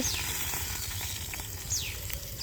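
Fish marinated with turmeric and salt frying in oil, a quiet steady sizzle with soft crackles and a few faint high whistling streaks, close and low in level.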